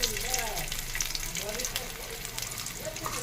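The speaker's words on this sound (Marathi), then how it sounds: "आपण आहे ना पॅनमध्ये घालून घेऊया आलं आणि लसूण" Ginger and garlic fry in hot oil in a pan, giving a steady close sizzle with crackling spatters throughout while someone talks over it.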